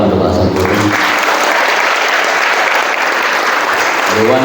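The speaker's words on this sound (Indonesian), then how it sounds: "Tepuk tangan untuk Al Hasan Putri" Loud, dense applause from a large crowd at a Maulid celebration in a girls' Islamic boarding school, a continuous roar of clapping with a voice heard briefly at the start and end.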